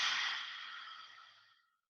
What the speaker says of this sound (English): exhale through the mouth. Exhale with sound.